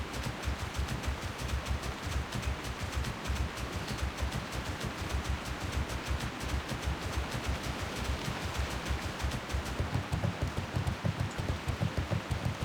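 Steady rain falls in World of Warcraft, a dense, even hiss of drops pattering continuously and fairly quietly with no voices over it.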